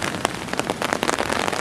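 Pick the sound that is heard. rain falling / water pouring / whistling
rain falling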